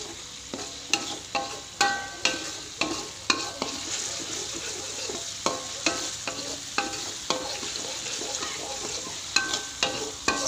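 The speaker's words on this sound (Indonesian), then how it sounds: "jadi aku tumis-tumis terus teman-teman, aku aduk-aduk" Food stir-frying in cooking oil in a pan, tossed and stirred continuously, gives a steady sizzle broken by frequent scraping clacks of the utensil at an irregular rhythm, close and clear with no talking.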